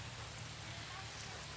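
Light drizzle falls outdoors beside a closed cafe, a steady soft hiss of rain on surfaces with a low constant rumble beneath.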